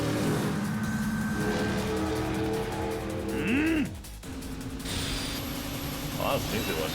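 Car driving in Yakuza 5 Remastered, a steady engine drone with mechanical rattles and a brief rising tonal sweep partway through, running throughout under game sounds.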